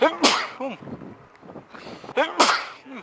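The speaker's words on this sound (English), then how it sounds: "I'm gonna sneeze real quick" A person sneezes twice, about two seconds apart, each burst loud and sharp at close range, with breathy voice sounds in between; no words are spoken.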